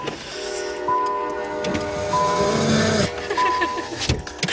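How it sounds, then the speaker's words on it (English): A train rumbles past close by a car with its window down, a loud steady roar of wheels and rail noise with sustained tonal squeal and horn-like notes rising and falling over several seconds. "I feel like maybe you should roll up your window when the train's going by."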